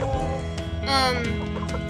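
Bantam Cochin hen clucking up close in a series of throaty notes, with a louder squawk in the middle, over other background sound.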